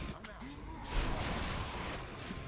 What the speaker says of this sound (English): Stand and take those explosions